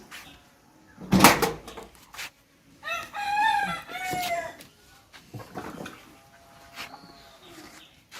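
Several loud Black Australorp chicken calls rise over a quiet background inside a poultry farm, with a sharp knock or clatter just before them and softer clucks trailing afterward.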